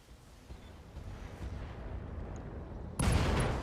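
SRM missiles launch at a Stinger mech in a MechWarrior battle: a low rumbling barrage of muffled thuds builds steadily, then a sharper, louder volley of blasts hits near the end, with no one talking.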